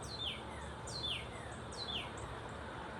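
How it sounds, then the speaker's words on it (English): Birds chirp outside on a balcony, giving three evenly spaced, sliding chirps over a steady background hiss. "I can listen to the birds"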